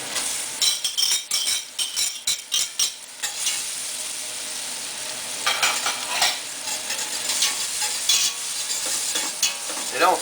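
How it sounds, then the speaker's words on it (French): Chorizo and shallots fry in a pan, with a run of rapid spoon scrapes and clatters over a continuous sizzle that settles into steadier crackling. "Et là on fait tout revenir pendant 2-3 minutes."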